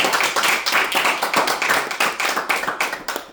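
A church congregation claps in rapid, loud, steady rhythm to acclaim the word of God, the dense hand claps filling the space without any talk.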